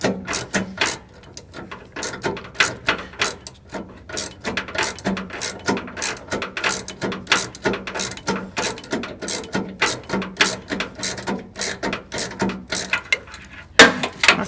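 Ratchet wrench clicking in quick repeated bursts while a bolt is threaded onto a GM OBS truck's rear shock absorber, close and crisp with short pauses between runs.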